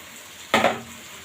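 Vegetables such as jackfruit seeds, pointed gourd, potato and taro stolons are dropped into a hot curry pan with jaul fish, setting off one short, loud burst of sizzling and clatter that quickly fades.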